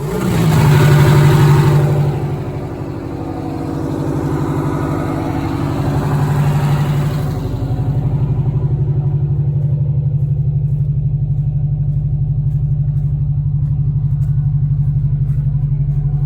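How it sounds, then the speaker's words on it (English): A 1977 MCI MC8 bus with a Detroit Diesel 8V71TA engine is revved with light throttle: a loud swell in the first two seconds, then a steady, deep diesel idle that drones on alone. "give it a little throttle and see, make sure just gently and make sure it returns back"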